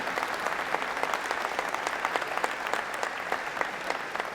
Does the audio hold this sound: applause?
yes